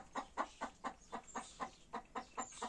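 Chickens clucking close by in a quick, regular series of about a dozen short clucks, soft and steady with no talking.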